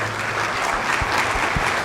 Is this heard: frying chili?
no